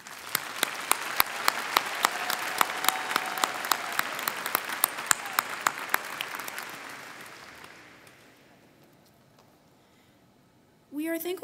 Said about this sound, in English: Please join me in applauding one more time for all of the students we just recognized.